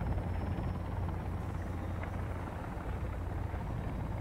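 Helicopter ride in the survival video game Sons Of The Forest: a steady, loud, close rotor and engine drone continues throughout with no break.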